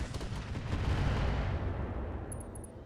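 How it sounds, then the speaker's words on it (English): An MML missile volley fires in the RogueTech mod of BattleTech, a dense rumbling roar of many launches blending into one sustained blast that slowly tails off. "That's a lot of MMLs. Fire."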